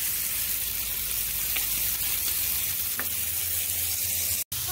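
Marinated meat sizzles steadily on a Blackstone griddle over medium heat, a constant close hiss with faint pops, cut off abruptly near the end.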